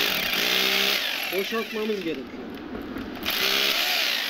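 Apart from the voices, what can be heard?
power drill clearing a hole for a steel anchor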